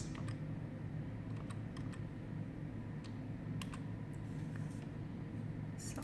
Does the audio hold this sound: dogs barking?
no